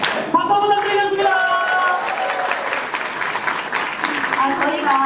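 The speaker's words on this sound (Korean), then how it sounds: "박수 한번 부탁드리겠습니다." An audience at a live stage event for the idol group TREN-D claps steadily and loudly, with cheering voices and whoops rising above the continuous applause.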